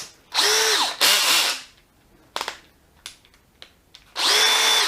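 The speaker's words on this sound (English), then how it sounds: "One drill built back up again. We'll give it a quick trial run." A rebuilt Dewalt DCD777 cordless drill driver test-run on a low torque and speed setting: two short whirring spins, a few clicks and handling taps, then another spin-up, loud and close.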